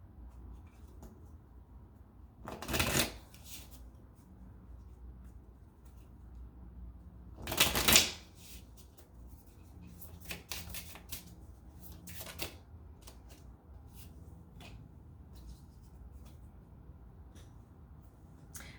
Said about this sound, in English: Let's pull a card for you.